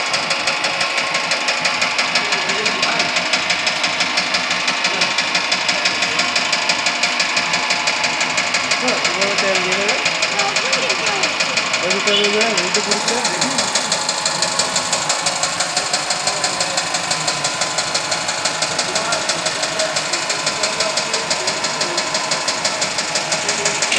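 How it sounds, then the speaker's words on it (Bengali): Village oil press machine extracting oil, a steady mechanical drone with rhythmic knocking running continuously, loud and close, with people talking faintly over it. "আমরা আপনাদের দেখাবো যে তেল কীভাবে বের হচ্ছে। দেখেন মেশিনের দ্বারা।"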